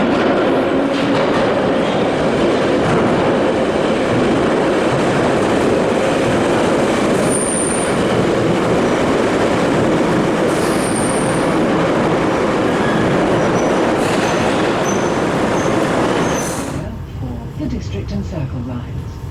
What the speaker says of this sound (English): First tube ride of the day. This one's going to Cockfosters.